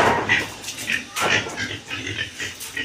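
A pig grunts and squeals repeatedly near a laundry area, the calls rising and falling under people talking nearby.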